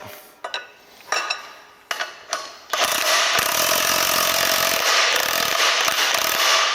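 Ratcheting clicks and metallic clanks from a 1 1/8 inch wrench and socket tightening nuts during an E10 thumb install, a few sharp bursts followed by a sustained loud grinding mechanical rasp.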